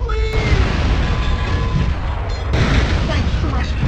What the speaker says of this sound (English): The explosion should free those trapped miners